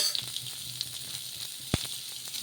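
Onions frying in a pan, a faint steady sizzle with a few light stirring touches and one brief knock near the end.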